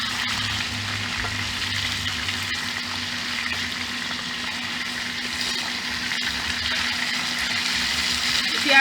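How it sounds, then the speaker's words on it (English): Sea mullet fish fries on a stove with a loud, continuous sizzle and crackle of hot oil that holds steady throughout and swells slightly at the end. "this is how you gauge the cold stove to fry your fish then"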